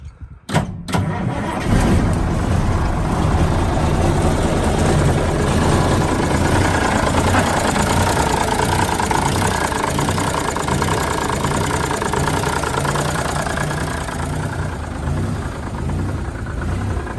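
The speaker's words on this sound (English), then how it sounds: "Looks like it would be the original engine. Yep, it's a 300. Now look at that. See, I was wrong. But let's see if she'll start." An old Freightliner dump truck with what looks like its original 300 diesel engine cranks briefly, catches and settles into a loud, rough, knocking idle that runs on steadily, close by.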